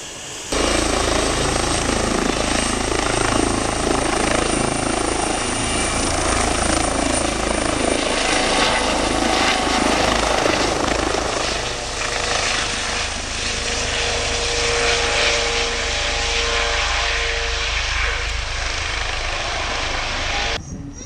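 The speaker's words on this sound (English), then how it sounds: "A doctor has been called to attend to a woman suffering from heat stroke, and he arrives by helicopter." A helicopter carrying a doctor arrives, its rotor thumping loudly and steadily nearby, its engine drone filling the air and shifting slightly in pitch as it approaches.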